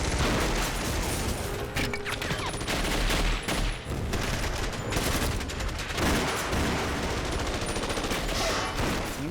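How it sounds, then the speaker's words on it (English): Heavy, sustained gunfire from a staged movie gunfight, dense bursts of shots and automatic fire running continuously and loud throughout. "and it's a huge gunfight."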